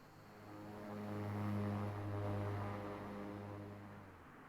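Propeller aircraft engine held at full prop power in flight in a flight simulator game, a steady droning hum with a low harmonic buzz that swells slightly and then eases, heard alone without talk.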